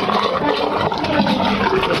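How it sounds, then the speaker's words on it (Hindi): Water rushes and gurgles steadily as it is poured into the pipe of a KSB Tullu pump, a continuous close splashing flow with no talk. "यहाँ पे पानी हम लोग डाल दिए हैं"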